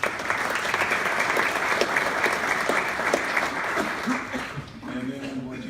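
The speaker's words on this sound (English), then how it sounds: "so we want to give them a round of applause too" Audience applause for the event caterers at a State of the City address, a steady dense wash of clapping that fades near the end as a voice begins to speak.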